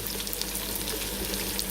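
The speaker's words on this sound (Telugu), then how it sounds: "అల్లం పేస్ట్ పచ్చివాసన పోయేదాకా వేయించుకుందామండి." Ginger paste sizzling in hot ghee for bagara rice, a steady close crackle and hiss that runs unbroken with no voices.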